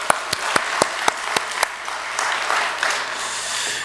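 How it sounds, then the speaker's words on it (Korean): A church congregation starts clapping in welcome during a Sunday service, opening with several sharp, separate claps that quickly merge into a soft, steady round of applause. "우리 다 같이 환영의 마음으로 우리 박수하도록 하겠습니다."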